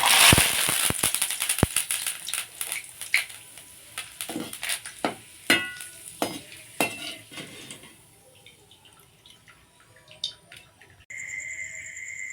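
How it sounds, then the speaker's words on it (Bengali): Curry leaves fry in a pan, giving sharp crackling pops and spatters up close, dense at first and then thinning to scattered sizzles and a faint clink. "এবার কারি পাতাটা ভেজে নেব"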